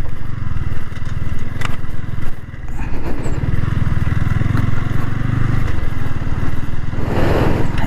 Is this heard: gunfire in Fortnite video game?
no